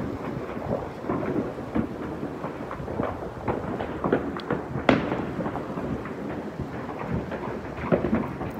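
Firecrackers and fireworks burst in a dense, continuous crackle of pops and booms outdoors on a cold night, with one sharper bang standing out midway and no talk.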